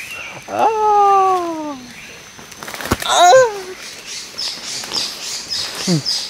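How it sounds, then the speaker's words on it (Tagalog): Birds calling nearby, with drawn-out descending whistled calls and later sharp chirps and short tweets, mixed with faint background noise and occasional high peeps. "Dalawa yung mga ibon."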